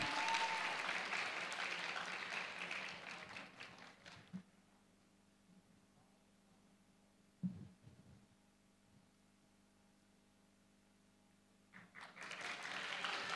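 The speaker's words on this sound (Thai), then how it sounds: "ปรบมือเป็นกำลังใจให้กันนะคะ" Audience applause at the Miss Grand Chachoengsao 2024 beauty pageant final show: loud, dense clapping for about four seconds, a stretch of near-silence with a low hum and a single thump, then the clapping swells back in.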